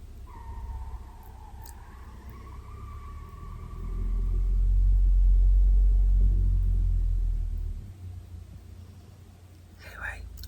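A vehicle rolls into a car park at night outside a parked van, its low rumble swelling to a deep peak and fading. A faint tonal whine is heard early, with soft whispering over it.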